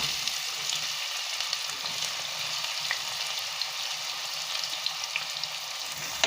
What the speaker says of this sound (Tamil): இப்போ கட் பண்ணி வச்சுருக்க ஆனியன் ஆட் பண்ணிக்கலாம்.